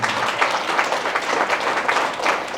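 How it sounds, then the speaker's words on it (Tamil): Audience applause at the opening of a convent home, dense clapping from many hands sustained evenly and fairly close, with no talking over it. "அதுக்கே எல்லாம் கைத்தட்டணும்"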